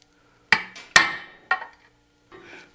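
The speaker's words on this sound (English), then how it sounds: "just start tapping that down and running it down through the bore" A swing arm bearing is tapped into its bore on a CFMOTO Ibex 800T. Three sharp, close metallic hammer taps land within about a second, followed by a softer knock, in a quiet room.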